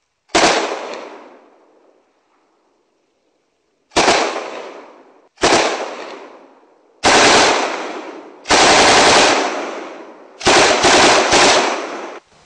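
Bursts of automatic gunfire during Taliban weapons training, six separate volleys of sharp rapid shots, each loud and close, ringing out into a decaying echo, with short silences between them and no voices.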